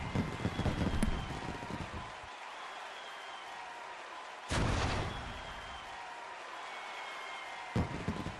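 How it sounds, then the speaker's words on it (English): Fireworks from the courtroom video game The Great Ace Attorney Chronicles, three sharp bursts with crackling tails spaced a few seconds apart over a faint background. "Fireworks!"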